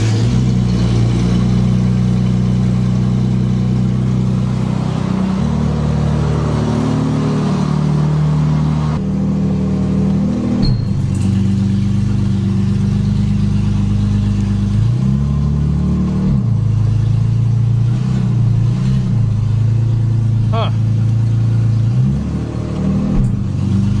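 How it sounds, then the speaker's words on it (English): An old Jaguar car, found abandoned in a barn after sitting for 20 years, idles steadily with a loud, continuous low engine rumble and small shifts in pitch, with no talking over it. "I think I'll let it idle for a while."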